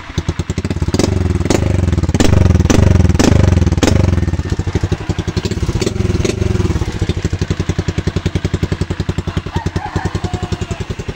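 A motorcycle engine warming up idles with a steady, rapid putter, punctuated early by several louder revs or pops before settling into an even loping rhythm.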